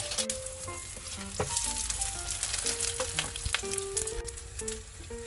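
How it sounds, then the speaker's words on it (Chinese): Beaten egg sizzles steadily in an oiled pan as a thin omelette fries in a home kitchen, a constant close crackle and hiss running throughout with soft background music underneath. "等待焖煮的时间，我们煎一个蛋包"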